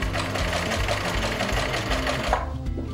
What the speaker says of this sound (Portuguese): Chegou aqui no final do tecido que eu tinha aberto, eu puxo pra frente, abro novamente e sigo costurando.